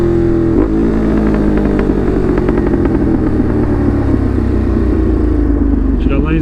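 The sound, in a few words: Ducati Monster motorcycle engine while riding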